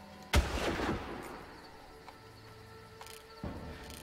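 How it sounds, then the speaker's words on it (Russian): A single sniper rifle shot in the video game Far Cry cracks loud and sudden, then trails off in a rumbling echo. A quieter ambient stretch follows, with a faint later thump. "Такой выстрел они явно слышали."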